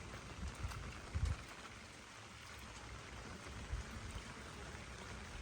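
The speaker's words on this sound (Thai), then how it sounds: "ฝนตกแล้วก็ได้ชุ่มชื่นดี" Heavy rain falls steadily on a rural garden farm with a pond, a dense, continuous hiss and patter with a few louder splashing bursts, close and enveloping, with no voices.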